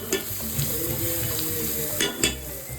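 Browned onions sizzle steadily in a hot pan as a ginger, garlic and green chili paste goes in, with a few sharper crackles and stirring clatters over the continuous frying hiss.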